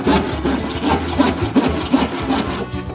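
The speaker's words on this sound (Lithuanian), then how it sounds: "Įstrigo pjūklas." A hand saw cuts through wood while a table is being built, making loud, close, rhythmic rasping back-and-forth strokes at a quick, even pace for the whole stretch.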